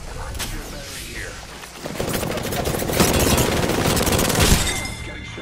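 Rapid automatic gunfire in a video game, a dense rattling volley building from sparse shots into a sustained close burst with a few heavier booms, under faint voices.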